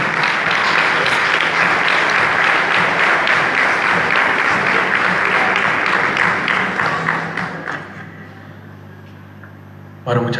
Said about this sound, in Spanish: le damos la bienvenida con un fuerte aplauso a esta banda municipal